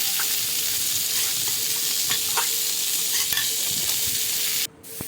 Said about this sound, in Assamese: কেৰাহীত তেল নিদিয়াকৈ ভাজি পেলাই সেইফালে মোৰ মগুৰ দালি ভজা হৈ আছে